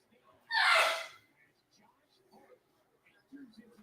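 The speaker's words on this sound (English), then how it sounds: "People want to sneeze their brains out in the background." One sharp, breathy sneeze bursts out loud and near, followed by quiet breaths and faint murmured speech.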